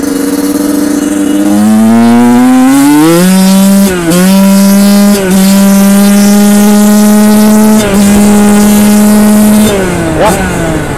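A Yamaha YZ 85 two-stroke dirt bike engine, said to idle too high with a slipping clutch, revs loud and near, its pitch climbing then holding a sustained high buzz broken by a few brief dips.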